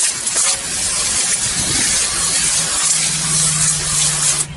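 Water sprays steadily onto a car tire being wet down before a wheel and tire cleaner goes on, a close, continuous hiss lasting throughout with a low pump-like hum joining partway.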